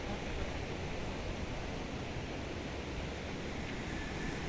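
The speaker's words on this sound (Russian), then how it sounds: "Водичка там бежит по нему помаленечку." A small waterfall in the Adygea mountains trickles gently, a faint, even hiss of running water mixed with soft wind, with no voices over it.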